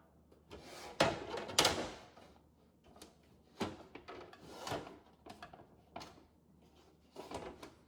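A glass shelf in a Samsung refrigerator slides back into its front tab, giving several short scraping and knocking bumps close up, with quiet pauses between them.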